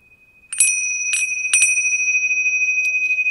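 Bright bell chimes for a tarot card reading ring out in a short series of clear strikes, each leaving a sustained shimmering tone that lingers and overlaps, with no voices.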